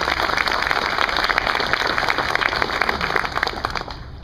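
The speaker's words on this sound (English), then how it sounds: "a round of applause for them too" A crowd at a CPS Energy solar announcement in San Antonio applauds in a dense, loud, steady wash of clapping that eases slightly at the end.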